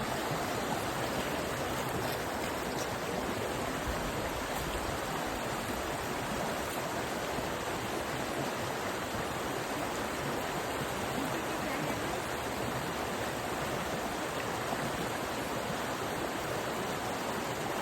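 Water runs continuously with a steady, rushing hiss, unbroken and fairly close, with no other sounds.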